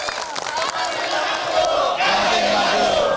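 Supporters at a mayoral debate cheer and shout in a loud, dense crowd roar with clapping and rising voices, sustained and energetic throughout.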